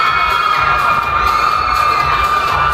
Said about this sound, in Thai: ขอเสียงกรี๊ดดังๆอีกครั้งหนึ่ง